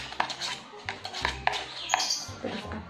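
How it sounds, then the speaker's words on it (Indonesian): A fork stirs Pop Mie spicy fried instant noodles in a cup, making a series of quiet, irregular clinks and scrapes, close and soft. "Kita aduk ya."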